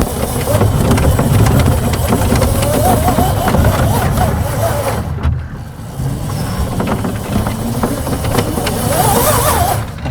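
A Postman Pat van fitted with a Surron electric motor bumps over rough ground, with a continuous rumbling, rattling drive under voices and a short dip in noise partway through.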